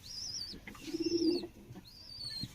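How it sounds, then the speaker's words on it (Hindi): A pigeon being shown by hand lets out a soft, low coo in the middle. High chirping bird calls sound around it, fairly faint and close, and no one speaks. "ये कबूतर के पार है जी"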